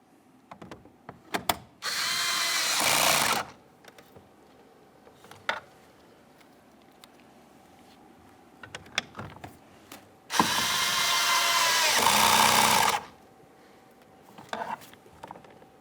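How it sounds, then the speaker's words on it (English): A power driver runs two separate bursts, each lasting a couple of seconds, as it drives the grab handle screws into a 1998-2011 Ford Ranger door panel, with small clicks and handling noises between the bursts. "Install the 2 screws that go in your grab handle."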